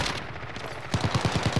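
Rapid automatic gunfire in Call of Duty: Modern Warfare, a quick burst of about seven evenly spaced shots after a moment of background game noise, loud and close.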